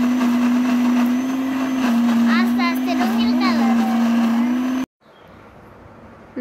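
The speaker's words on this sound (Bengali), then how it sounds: "আমার সব মশলা ব্লেন্ডার করা কমপ্লিট।" A kitchen blender grinds mustard, chili, ginger and garlic with a loud, steady motor whine that runs for nearly five seconds, then stops abruptly. A quiet room tone remains, and a voice is faintly heard during the grinding.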